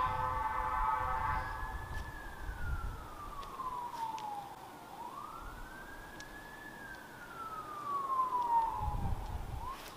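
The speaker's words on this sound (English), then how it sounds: "had to let the sirens go by" Emergency vehicle sirens wail past in long rising and falling sweeps, moderately distant over a low rumble of traffic, with no one talking.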